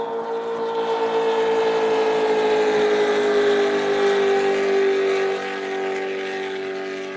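Racing powerboat engines roar at a Lake Macquarie SuperSport race, a loud, sustained harmonic whine that holds steady as the boats pass and then drops slightly in pitch and volume near the end. No voices are heard.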